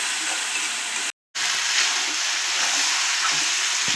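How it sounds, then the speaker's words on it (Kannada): Onion, tomato and green chilli stir-fry in a pan with a continuous close sizzle and soft stirring scrapes, broken by a brief moment of silence near the start. "ಇದರ ಚೆನ್ನಾಗಿ ಈರುಳ್ಳಿ, ಟೊಮೊಟೊ, ಹಸಿಮೆಣಸಿನ್ಕಾಯಿ ಎಲ್ಲ ರೋಸ್ಟ್ ಆದ್ಮೇಲೆ ಈ ಥರ ಚೆನ್ನಾಗಿ ಹುರ್ಕೊಳ್ಳಿ"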